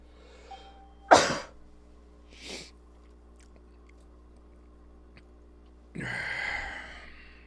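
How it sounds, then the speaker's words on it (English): A single sharp, forceful sneeze bursts out, followed a moment later by a softer breathy sound and then a longer noisy exhalation, all close and otherwise quiet. "Oh, I'm gonna sneeze again."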